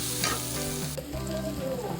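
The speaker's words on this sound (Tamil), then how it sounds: "வெங்காயத்தை நல்லா நைட்டாக நறுக்கி வச்சுக்கணும் அப்படி போட்டு அதை நல்லா சிவக்க வறுக்கணும்" Onions sizzle steadily in a hot pan, a continuous close frying hiss with occasional stirring scrapes.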